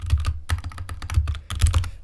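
Computer keys clatter in quick irregular bursts as someone taps a keyboard, including the Escape key, close and alone with no speech.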